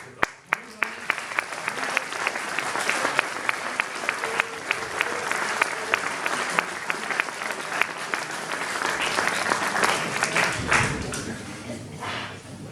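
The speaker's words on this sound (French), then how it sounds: "Et je souhaiterais qu'on applaudisse Jean Luzanin qui a fait." A concert audience gives sustained applause at a brass ensemble performance in Saint-Bonnet-de-Chavagne, with dense, steady clapping that lasts the whole stretch and a voice heard faintly under it.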